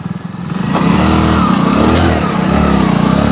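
A motorcycle rides along a narrow forest footpath dotted with felled tree stumps, its engine loud and close, droning steadily and rising slightly as it picks up speed.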